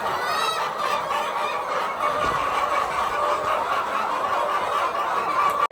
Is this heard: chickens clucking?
yes